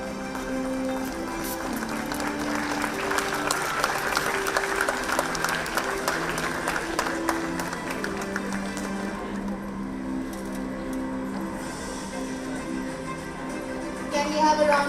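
Sustained applause from a conference audience at a university inaugural session honoring a guest, a broad continuous clapping texture that carries on for the length, thinning slightly near the end, with some voices mixed in beneath.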